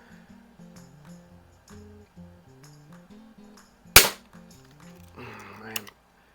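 A 1st Edition Crosman 760 pump air rifle fires one sharp, loud crack, followed by a brief metallic rattle, over quiet background music.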